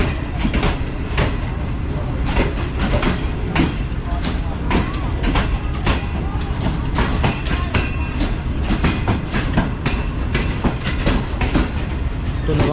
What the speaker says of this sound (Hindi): तो ट्रेन आहिस्ता आहिस्ता निकल रही है यहाँ से